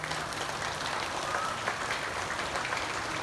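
A group of students claps in steady, dense applause during a school flag ceremony, continuous and fairly close, with no pause.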